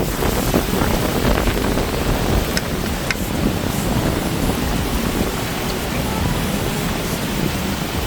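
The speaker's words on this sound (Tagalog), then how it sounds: "Buti na lang malakas yung hangin pati ngayon." Strong wind roars and buffets the microphone continuously, a dense, rushing noise that fills the whole stretch without letting up.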